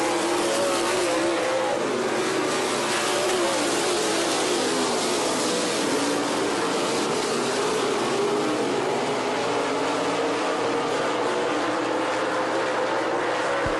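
Dirt track race cars roar around the oval at Hamilton County Speedway during a heat race, a continuous loud, dense engine drone with shifting revs and no break across the whole stretch.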